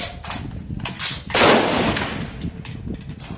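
M16A rifle fire on a marksmanship range, a few sharp cracks with one louder nearby shot standing out over constant range noise and distant reports.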